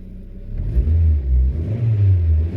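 A manual Suzuki SX4 engine revs loudly and close by, a deep rumbling surge that rises and falls twice over a few seconds with no talking.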